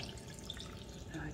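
Water poured onto sugar in a pot while preparing spiced honey with citrus, a steady liquid trickle and splash heard fairly quietly and close throughout.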